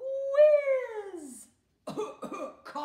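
A child in a primary drama lesson vocally imitates a cough sound effect, starting with a drawn-out voiced sliding tone and then a short series of choppy, breathy bursts, close and fairly quiet.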